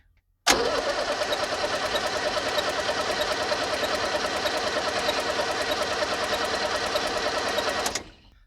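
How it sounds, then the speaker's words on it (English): A 1978 International Scout II diesel engine cranks on its starter for about seven seconds, a steady rapid churning rhythm that stays loud and close until it cuts off without firing. "These diesels take a lot of juice to crank."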